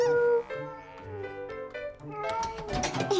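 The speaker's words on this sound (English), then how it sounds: "Silly cat." A cartoon cat meows in several short, tonal cries, set against light background music in an animated children's show.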